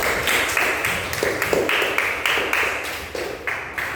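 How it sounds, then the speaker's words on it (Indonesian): Classroom applause for a student group, a small set of hands clapping in an uneven rhythm of overlapping bursts, close and fairly loud for about four seconds. "Beri tepuk tangan kepada kelompok 1."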